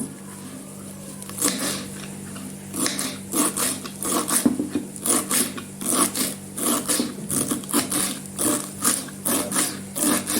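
A knife finely chops a pinch of parsley on a cutting board, giving a quick, steady run of close, crisp taps that speeds into an even rhythm.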